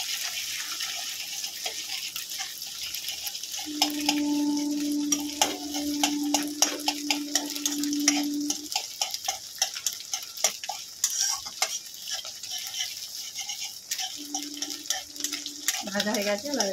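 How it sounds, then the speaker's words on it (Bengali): Two eggs frying and scrambled with a little salt in an oil-slicked pan, a steady sizzle with scraping stirs and light clinks of the utensil, a tonal hum running through the middle stretch and again near the end, close and fairly loud. "ডিমটাকে প্রথমে একটু ভেজে নেব"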